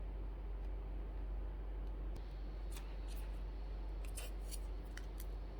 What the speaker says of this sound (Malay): Tape pun kena gunting besar sikit daripada dia